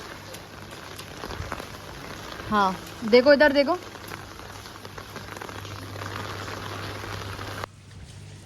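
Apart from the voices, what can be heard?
rain falling at night at a fort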